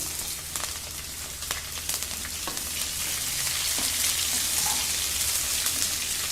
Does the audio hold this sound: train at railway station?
no